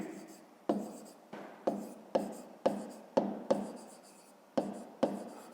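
Pen or pencil writing by hand on paper during a fifth-grade maths exercise, a series of short scratchy strokes in irregular bursts, close and fairly quiet, with no voice.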